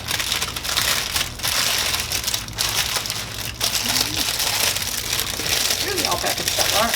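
A knife slices a pita bread in half for a tuna salad sandwich, giving a steady, close crinkly crunching and sawing texture that runs for about seven seconds with brief dips.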